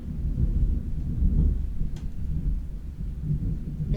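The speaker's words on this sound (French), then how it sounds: "Le tonnerre." Low, rolling thunder rumbles continuously, a deep, fairly steady roar with no voices over it.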